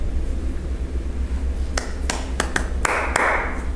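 Hand clapping from drummers, a handful of sharp separate claps spread unevenly over a few seconds above a steady low background hum, with no talking.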